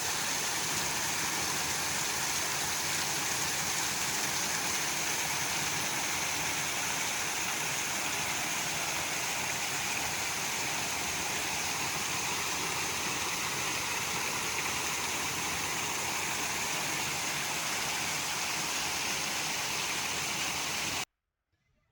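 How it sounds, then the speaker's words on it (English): Steady broadband rush of a creek pouring over Creation Falls, a waterfall in a Kentucky ravine, continuous and fairly loud with no voices, cutting off abruptly at the very end. "that creek goes over Creation Falls"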